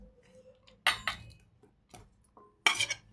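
Chopped onions and tomatoes being mixed in a bowl, heard as a few sharp utensil clinks and scrapes against the bowl separated by quiet gaps, with two louder bursts of clatter.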